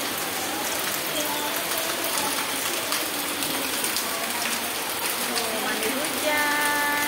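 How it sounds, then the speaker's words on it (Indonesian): Steady heavy rain pours down outdoors while a child bathes in it, a dense, continuous hiss of drops close by with faint voices beneath. "Mandi hujan."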